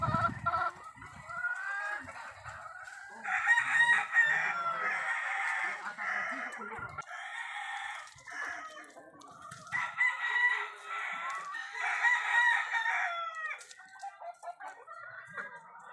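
Roosters crow in two long, clear calls amid clucking from chickens at a fowl breeding yard, with scattered softer clucks and farmyard noise between them.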